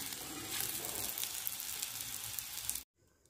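Rice flour pitha dough frying in a pan, with a steady, close sizzle and hiss that holds for nearly three seconds and then cuts off abruptly to near silence.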